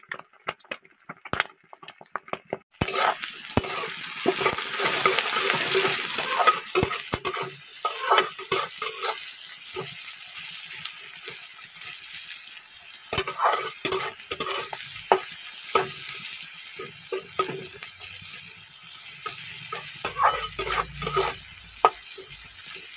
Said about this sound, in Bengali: তো তেলের মধ্যে এখন পেঁয়াজটা দিয়ে দিলাম